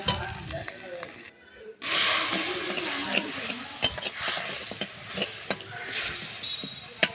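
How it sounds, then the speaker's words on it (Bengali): Spice masala with salt sautéing in oil in a pan for an okra and potato curry: a continuous sizzle with scraping stirs and clinks, after a brief silence and a splash of liquid near the start. "আর লবণ স্বাদ মতো দিয়ে মশলাটা কষিয়ে নেবো"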